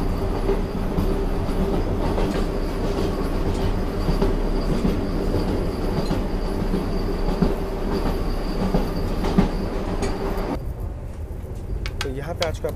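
Steady rumble and rhythmic wheel clatter of the Vande Bharat Express running between Katra and Delhi, heard from inside the executive class coach, with a narrator talking throughout and a sudden drop in the noise near the end.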